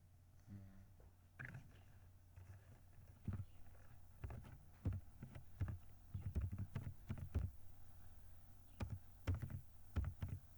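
Irregular clicks and taps of a computer keyboard being typed on, close by, in short bursts with brief pauses between.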